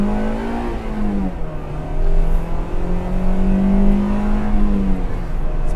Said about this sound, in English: Pick up some revs here.